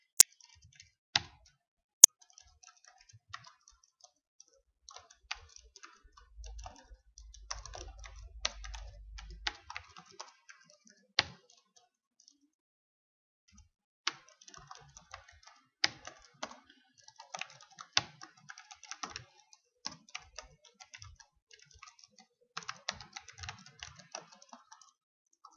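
Someone types code on a computer keyboard in quiet, irregular bursts of soft key clicks with pauses between, plus a few louder isolated taps, close and without speech.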